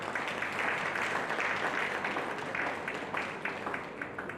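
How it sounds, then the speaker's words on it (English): Audience applause at a tourism conference in Nigeria, a steady wash of many hands clapping at moderate distance, fairly even throughout and fading slightly toward the end. "I think they deserve a very big round of applause for that."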